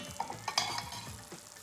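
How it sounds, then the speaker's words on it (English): An egg fries in hot oil in a pan, crackling and sizzling steadily, with a few sharper pops standing out over the constant frying hiss. "That's the amount of sizzle that you want for a classic fried egg"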